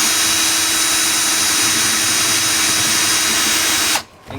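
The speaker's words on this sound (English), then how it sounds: "Take a 1/4 inch drill bit, drill a hole." A power drill with a 1/4 inch bit boring a hole while a MotorGuide Xi3 trolling motor is fitted to a kayak, whining loud and steady for about four seconds before it abruptly stops.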